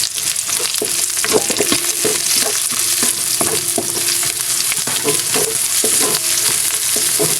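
Onion and garlic sauté in a hot pan for a sardine dish, a steady close sizzle broken by repeated scraping stir strokes, with no talking.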